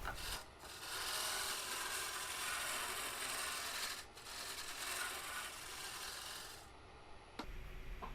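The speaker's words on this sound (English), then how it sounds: "now I'm going to take my gouge and kind of level it all out" Wood carving gouge leveling rough red oak, long raspy scraping strokes that are close and fairly loud, with short pauses between passes.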